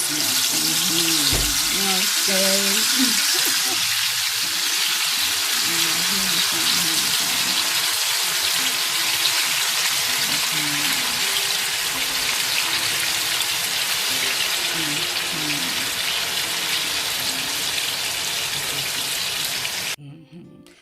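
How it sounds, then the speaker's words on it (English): Steady, loud sizzling and crackling of plantain frying in hot oil, a continuous hiss with occasional pops, cutting off at the end. "Now you fry it till it gets golden brown."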